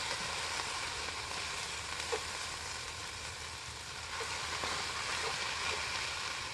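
Onions and garlic sizzle in a Dutch oven set over a wood fire outdoors, a steady close crackling hiss that runs unbroken from start to finish with no voices.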